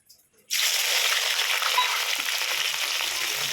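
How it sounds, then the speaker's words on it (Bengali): Freshly washed onions, still wet, hit hot mustard oil for a chickpea ghugni and burst into a loud, steady spluttering sizzle. The sizzle starts abruptly after a brief quiet moment and continues without a break. "পেঁয়াজগুলো ধুলাম তো ওই জন্য জল আছে পরপর পরপর পরপর করছে"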